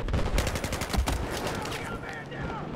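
Rapid automatic gunfire in the video game Battlefield, loud and close, with dense bursts of shots that thin out toward the end, mixed with game noise and some voices.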